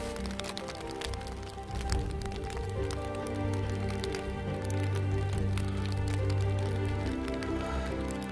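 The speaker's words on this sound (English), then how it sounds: "it's fucking hailing." Hail falls on a plastic poncho during a wet hike on the Inca Trail, a steady dense patter of sharp cracks and taps with rumbling wind and footsteps underneath, continuous and close throughout.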